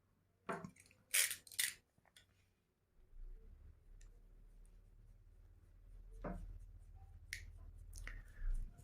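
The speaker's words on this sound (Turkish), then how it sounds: "şu orijinal paraşüt ipini içerisini bir keselim. Dış kabuğunu." A utility knife slices through the tough outer sheath of original paracord in a few short, crisp cuts and scrapes, followed by a softer, sustained rasp as the blade works along the cord.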